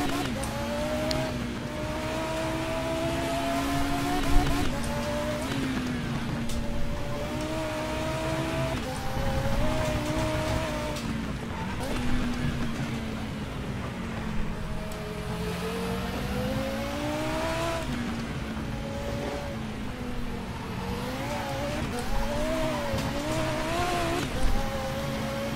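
Tires squeal through the corners in the Race07 racing game during an STCC race at Knutstorp, a thin whine that rises and falls over the constant drone of a race car engine.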